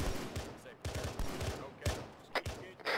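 Irregular bursts of gunfire crack out during patrol contact training, shots overlapping in quick volleys at moderate distance, with voices talking beneath.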